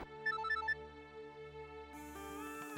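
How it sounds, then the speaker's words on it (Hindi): A phone ringtone plays a short bright melodic pattern, then gives way to a fuller, sustained musical tone; moderately loud with no talking. "रणवीर का फोन है।"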